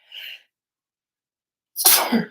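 A single loud, close sneeze bursts out after a brief faint breathy intake and a moment of silence.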